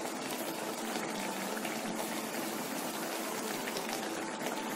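Water pours steadily into a pan of simmering vada curry gravy, a continuous close, rushing splash that holds at the same level throughout, with no voices.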